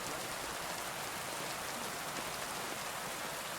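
Steady rain pours down continuously in the medieval world of Kingdom Come: Deliverance II, a dense, even hiss of drops drumming on surfaces with no gaps and no voices.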